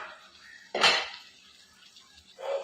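A lid comes off a pot of simmering ridge gourd with one short clatter, followed by quiet bubbling and a second brief metallic rattle near the end.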